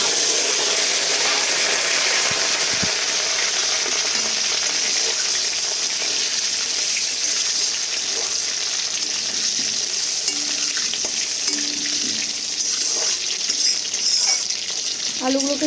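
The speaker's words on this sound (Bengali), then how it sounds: "কেটে রাখা আলুগুলোকে ভেজে নেব।" Cut potatoes with a bay leaf sizzle steadily in hot oil in a pan, a loud continuous frying hiss with occasional stirring scrapes, close by.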